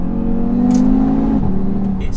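Audi TT RS straight-five engine revving: a steady droning engine note that holds, then drops in pitch after about a second and a half, heard up close with faint background chatter.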